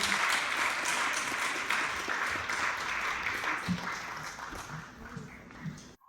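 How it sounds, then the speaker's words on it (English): A talent show audience at a live quarter-final in Wales gives a sustained round of applause that stays loud and steady for about six seconds, then cuts off abruptly. "can we please have the best of order and a massive round of applause"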